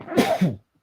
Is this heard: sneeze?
yes